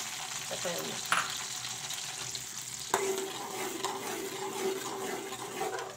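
Onions frying in ghee give a steady broadband sizzle that runs the whole time, with a few faint clinks and scrapes over it and no voices.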